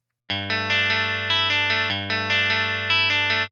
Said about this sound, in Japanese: この状態でドライブを下げると綺麗なクリーントーンが作れちゃいます。